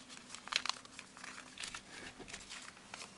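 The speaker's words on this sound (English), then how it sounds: "Now we are going to bring up this flap, making a fold here." Origami paper being creased and folded into a carousel model, giving light crinkling and crackling bursts near and close, with a cluster of sharper crinkles early on and softer paper handling afterward.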